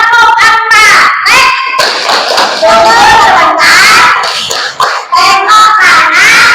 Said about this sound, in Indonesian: Kita tepuk dulu yuk.